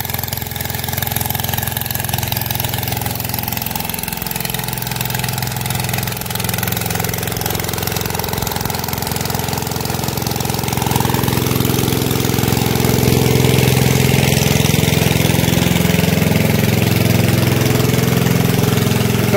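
Engine fitted beside a village well in Sindhudurg, Konkan, driving water through pipes to a rice paddy, a loud steady close-up drone that grows slightly heavier midway and runs on without pause.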